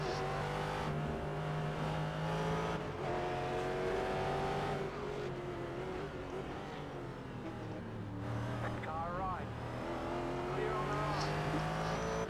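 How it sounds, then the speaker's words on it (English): B-class race car engine in the iRacing sim racing game, droning and revving continuously with rising and falling pitch as it shifts, while another car's engine is heard nearby, with talk over it. "I like listening to that car."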